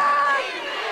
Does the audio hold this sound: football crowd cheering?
yes